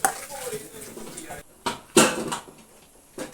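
Dal, yam and chopped vegetables tumble into a metal pressure cooker with a few clattering clinks and thuds of pot and utensil, close by, with a voice talking over the kitchen sounds.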